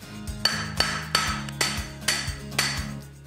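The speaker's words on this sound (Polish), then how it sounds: "Przyda ci się jeszcze jeden młotek." Hammer striking while a DIY gift is assembled, about eight sharp, evenly spaced blows with a metallic ring, close and loud, with no talk.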